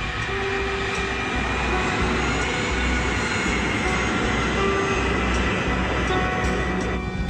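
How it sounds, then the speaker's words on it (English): A KLM airliner taxis slowly through thick fog on a runway, a loud, steady engine roar and rumble lasting throughout with no break. "The KLM plane is groping its way through fog."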